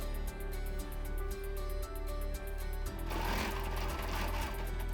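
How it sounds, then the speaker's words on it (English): Rapid, steady stitching of a sewing machine quilting down the edge of a fabric block with a curved quilting ruler, a close, even mechanical patter running throughout at modest level. "Let's quilt down the edge of this block"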